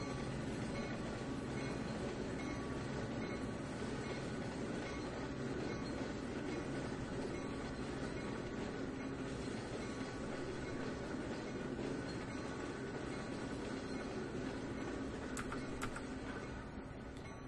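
Norfolk Southern boxcars roll over jointed rail in the Trainz 2019 railroad simulator, giving a steady rumble with a repeating clickety-clack of wheels crossing rail joints. The sound is continuous and even, with no talking.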